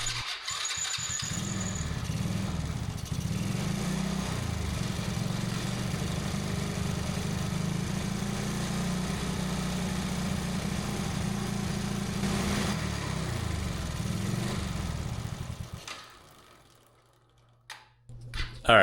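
An old ATV engine restarts and runs rough and loud for about fifteen seconds, revving unevenly without settling into an idle, then cuts out, leaving near silence broken by a few brief knocks.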